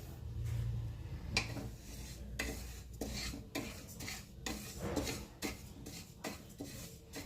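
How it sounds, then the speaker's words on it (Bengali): Moong dal dry-roasting in a pan without oil: a spatula scrapes and stirs the rattling lentils in repeated strokes, soft and close, with no voice. "মুগ ডালটা শুকনো কড়াতে তেল না দিয়ে হালকা করে ভেজে নিচ্ছি"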